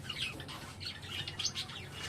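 Java sparrows in a colony cage give a steady scatter of quick, high chirps and tweets, fairly faint and continuous with no voices.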